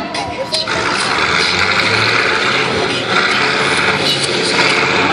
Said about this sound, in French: Écoutez naturellement le bruit de ses moteurs